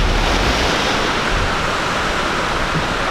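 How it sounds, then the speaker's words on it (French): Ocean waves break and wash steadily onto a Los Angeles beach where surfers are out, a loud continuous broadband roar of surf with wind, close and unbroken, and no voices. "Les vagues sont quand même belles."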